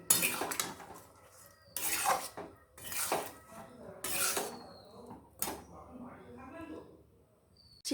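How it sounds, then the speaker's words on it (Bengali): A spoon clatters and scrapes against a pot while stirring chicken curry with cardamom paste, in several separate bursts of metallic knocking with quiet gaps between them. "এবার একটুখানি নাড়িয়ে দেব।"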